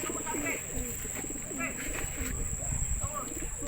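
Soft pigeon coos from a loft repeat at a slow, rolling rhythm against a faint, steady background hum.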